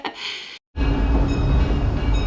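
Disneyland train ride in motion, a steady loud rumble of rolling rail cars with a short drop to near silence early on before the continuous clatter resumes, no voices.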